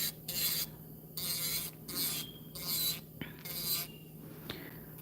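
Bursts of high-pitched buzzing grinding from an electric nail drill on acrylic nails come in short repeated passes with brief pauses, close by and steady, over a faint constant hum.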